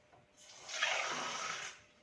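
Water is poured through a funnel into a dishwasher's salt compartment: a soft, roughly one-second rushing gush that swells and fades, quiet and alone.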